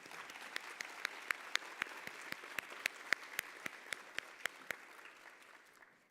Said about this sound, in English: If we can give them all a round of applause.